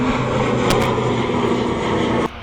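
An ASL Airlines cargo plane taxis toward the end of runway 27 at East Midlands Airport at night, giving a loud, steady jet engine roar with a sustained tone that drops off abruptly near the end.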